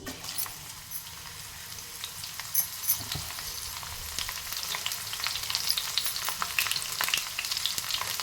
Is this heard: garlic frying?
yes